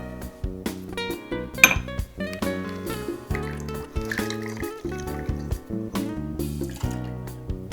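Lemon juice poured into a jigger or glass for a Penicillin cocktail, close, bright liquid splashes and drips mixed with light clinks of glass and metal bar tools, no voices.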